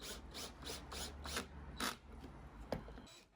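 Screws 35mm long being driven into wood with a power driver in short pulses, giving soft repeated whirring rasps and bursts at close range, fairly quiet.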